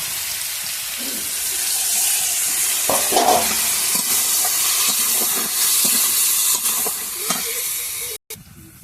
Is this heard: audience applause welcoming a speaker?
no